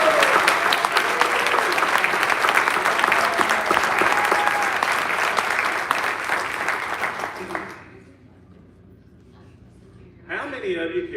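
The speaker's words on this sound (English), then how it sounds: "I just ask for a round of applause for them." A high school senior awards audience applauds retiring teachers, a loud sustained round of clapping that fades out, followed by a voice speaking.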